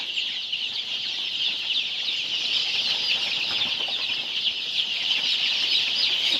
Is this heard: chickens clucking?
yes